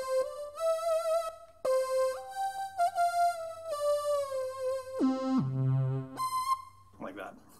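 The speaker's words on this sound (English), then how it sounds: "one other sound that I like is the saw wave" A bright, buzzy saw-wave synth tone from a coffin-style Glide controller glides between pitches with slides and bends, including a dip to a low note near the end. Played solo and fairly loud.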